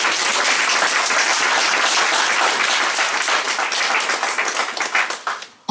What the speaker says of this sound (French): Applaudissons Jésus.